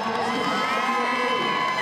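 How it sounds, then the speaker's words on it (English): A crowd at the 2023 Rogue Invitational max deadlift event roars behind a lifter's second attempt with loud, sustained cheering, whooping and shouting. "Crowd behind Shelby Neal, 365 second attempt"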